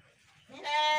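A white Garut sheep bleats loudly and close up in a single rising, sustained call that fills the second half of the moment.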